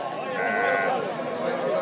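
Sheep bleat amid the bustle of a Tunisian livestock market, several overlapping wavering calls close by over a busy crowd murmur, with a narrator speaking on top.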